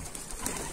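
A short, soft pigeon coo rises over a noisy outdoor background, brief and somewhat distant.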